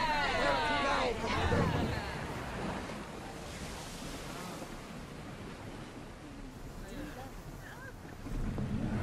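A ship under sail on the open sea in Assassin's Creed Odyssey, with rushing waves and wind around the hull, creaking timbers and crew voices calling out over the water.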